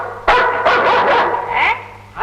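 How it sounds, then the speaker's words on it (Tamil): A large Alsatian dog barks at close range, a sharp opening bark followed by a quick run of three or four more, then a short whine. "அல்சேஷன்."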